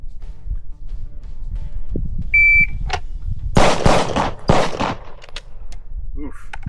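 Several loud, sharp gunshots fired during a box drill on a range, led by a brief electronic shot-timer beep, with the shots falling in quick clusters over steady background noise.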